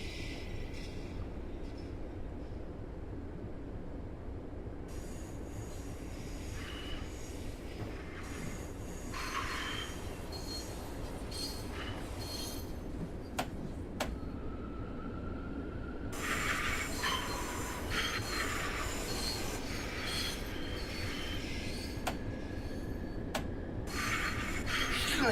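Train rolling along rails in Train Sim World 5 on a line into Pennsylvania Station, a steady low rumble throughout with intermittent higher squeals and clanks swelling toward the end, no talking.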